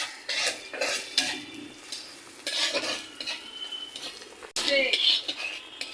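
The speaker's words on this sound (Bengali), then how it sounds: "শুটকিটা ভাজা হয়ে গেছে" Dried fish (shutki) stirred and frying in a pan, a utensil scraping and clinking against the metal in bursts over a steady sizzle, close and fairly loud.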